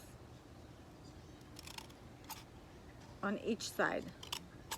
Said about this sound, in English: we take the scissors and we make small cuts